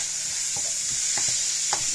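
Stock is stirred in a stir-fry pan, with a steady bright sizzle and a few quick spoon scrapes close by, with no talk.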